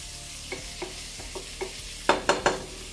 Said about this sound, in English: We're gonna give this a little stir.